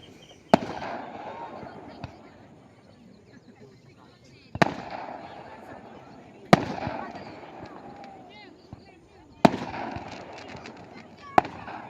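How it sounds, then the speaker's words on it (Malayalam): Firecrackers are set off from a neighbouring area, sharp isolated bangs every couple of seconds, about six in all, mid-distance, with people talking between the blasts. "ഇത് അപ്പുറം സൈഡിൽ നിന്ന് ആൾക്കാർ പടക്കം പൊട്ടിക്കുന്ന കേട്ടോ"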